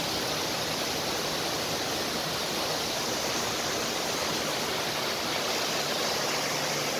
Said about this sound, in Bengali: এই ঝর্ণাটা নেমে আসছে।